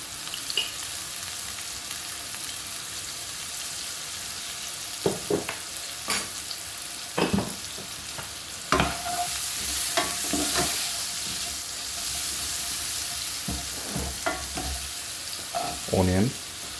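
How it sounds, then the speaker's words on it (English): Curry powder goes into a hot frying pan and is stirred, a constant sizzle running underneath while a spoon scrapes and clacks against the pan in scattered bursts. "Now I'm going to add the curry powder in."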